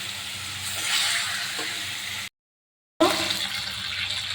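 Fish coated in spices fries in a little oil in a pan, giving a steady close-up hiss and crackle that drops out briefly and then resumes.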